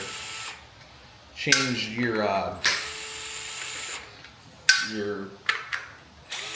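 A power driver whirs in short, rising bursts while screws are backed out of the fender deletes on a FloatWheel ADV electric board during a tire change, with a few sharp metallic clicks and someone talking close by.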